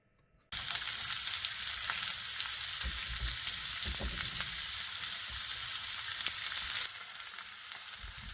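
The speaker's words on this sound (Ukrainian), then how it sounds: "А тепер обжарюємо її до напівпрозорості на невеликій кількості олії." Onion frying in a little oil, a steady close sizzle that starts suddenly after a moment of silence and keeps going, with a few soft clinks of stirring, then drops slightly toward the end.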